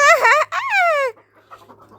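A desi chicken gives two loud, close clucking calls in quick succession, followed by a few faint softer sounds.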